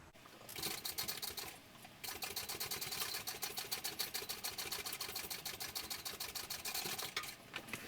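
Sewing machine stitching a lining onto a fabric sling, with a rapid, even mechanical chatter in continuous runs and brief pauses between them, close and clear.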